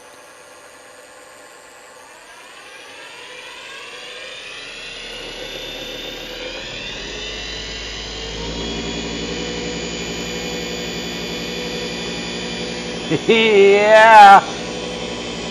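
Turncrafter Commander 12-inch wood lathe starting up and running, a motor hum rising gradually in pitch as it spins up, then a steady quiet drone with a brief louder warble near the end; a voice speaks briefly.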